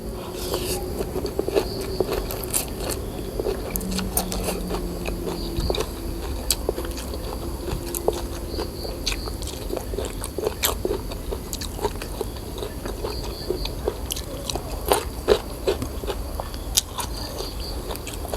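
Close, steady chewing and crunching of a spicy Thai giant cockle salad, with wet bites and small scrapes repeating throughout and no talking.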